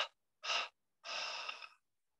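Guided meditation breathing, with a short sharp breath followed by a longer, steady deep exhale, close and clear against silence.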